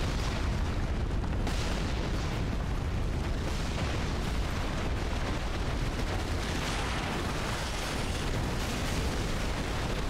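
Ballista bolts exploding in Dark Souls III near a lake with crabs, heard as a continuous loud barrage of booming blasts and rumbling bursts with no talk.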